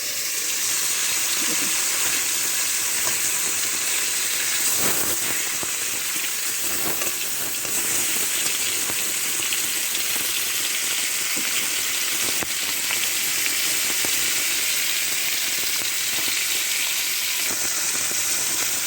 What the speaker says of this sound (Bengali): প্রথমে আমি তিনটে মাথা ভেজে নেব, তারপরে এই মাছগুলো ভাজবো।